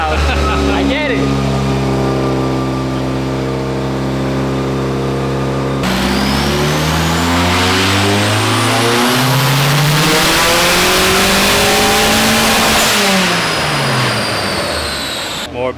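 A Volkswagen-engine-swapped BMW E36 revs hard under boost on a dyno, a loud sustained engine roar climbing and falling in pitch through several sweeps, with turbo whine above and people talking over it.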